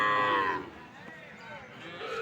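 At a livestock market selling heifer and bull calves, a cow gives a loud, close moo at the start, followed by softer lowing and market murmur that rises again near the end.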